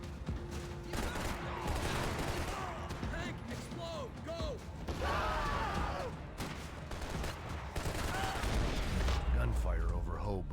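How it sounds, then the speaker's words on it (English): Gunfire in the video game Max Payne 3, set over Hoboken: dense sustained shooting with rapid bursts and mechanical clatter throughout, a voice speaking over the din. "Gunfire over Hoboken."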